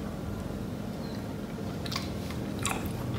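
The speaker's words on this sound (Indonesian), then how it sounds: "Setelah itu kita coba seperti apa rasanya." Close, quiet chewing of cilok, soft and springy tapioca dumplings served with spicy sauce, with a few soft crunchy bites over a steady low background hum; no talking.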